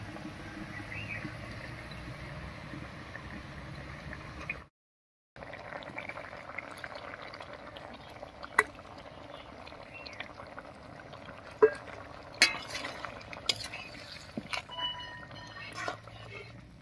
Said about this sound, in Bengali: মাছটা দিয়ে ঝোলের সঙ্গে খুব ভালো করে মিশিয়ে নিয়েছি।